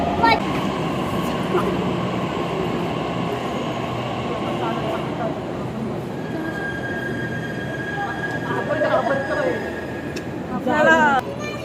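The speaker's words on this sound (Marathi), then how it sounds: "ट्रेन आली वाटतं." A metro train rumbles and rolls into the platform with wheels squealing, braking sounds near the end, while people chat nearby over the noise.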